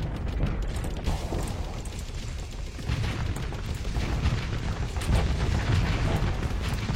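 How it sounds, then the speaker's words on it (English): Point defense weapons fire in a sci-fi video game, heard as rapid bursts and booming blasts layered over a dense, continuous roar at moderate level. "It's firing the point defense."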